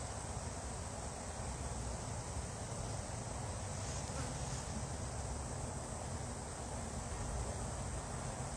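Honey bees at a hive give off a steady, unbroken buzzing drone throughout, soft and fairly even with no voices.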